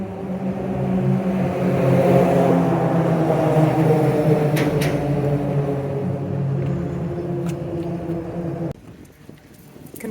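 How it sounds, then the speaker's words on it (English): Cars roll across the Frankfort Singing Bridge in Kentucky on a rainy day. Their tires raise a steady, loud, droning hum with a musical ring that holds for about nine seconds, then drops away to quieter background noise. "This one right here is the Frankfort Singing Bridge for the noise that it makes when the cars cross"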